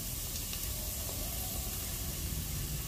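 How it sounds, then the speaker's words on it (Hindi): Onions sauté in a pan for sambar, giving a steady, even sizzle that holds at one level throughout with no voices. "तो सबसे पहले अनियन डालेंगे और इसको हल्का सा भूनेंगे।"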